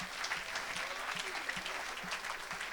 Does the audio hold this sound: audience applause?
yes